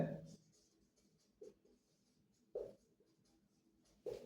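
A pen scratches across paper in short, separate strokes while a function graph is drawn, soft and close with quiet pauses between the marks.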